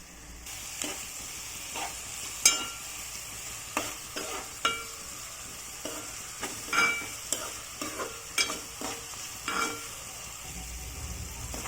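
Bitter gourd curry fries in a pan with turmeric, a low sizzle running underneath while a utensil scrapes and stirs in a series of irregular knocks and scrapes, close and fairly quiet.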